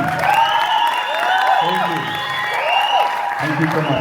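An audience at a motivational event in Ethiopia applauds for Nati, with sustained clapping mixed with cheers and whoops from the crowd for about four seconds.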